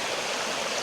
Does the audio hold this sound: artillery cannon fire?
no